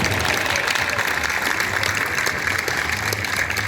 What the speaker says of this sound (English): Let's give these first responders a big round of applause.